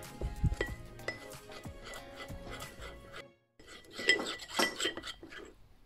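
A spoon stirs melted chocolate and cream, heated in a microwave for about 45 seconds, in a bowl for an eggless, butterless chocolate cake. Close, quiet clinks and scrapes come in two bursts around a brief silence.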